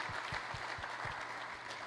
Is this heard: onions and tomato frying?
no